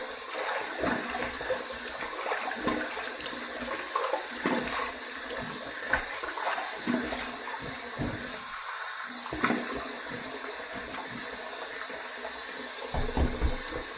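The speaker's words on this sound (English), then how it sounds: "I'm going to drain the sink a little bit because it's really filling up there." Water running and trickling in a bathroom sink while it fills and then drains, a steady splashing wash with small clinks and gurgles, moderately close and without speech.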